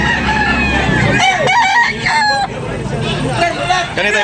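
Roosters crow and hens cluck at a busy chicken market in Tabunok, Talisay, with overlapping calls close by over a steady murmur of crowd chatter.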